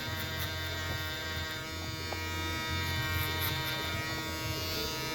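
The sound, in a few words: electric balding trimmer buzzing while cutting hair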